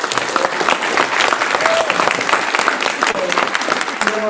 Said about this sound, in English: Let's get a round of applause for Jim.